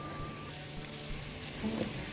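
Garlic frying in a pan for a creamy chicken pasta, giving a soft, steady sizzle that stays even and fairly quiet throughout, with no talking.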